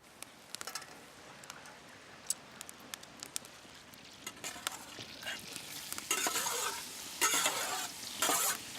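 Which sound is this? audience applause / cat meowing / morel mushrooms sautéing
morel mushrooms sautéing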